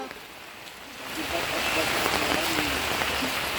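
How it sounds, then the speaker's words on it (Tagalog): Rain pours down during a community house-moving effort, a steady broadband hiss that swells louder after the first second and holds, with voices faintly present beneath it. "Masaan na tayo ng ulan, pero okay lang yan."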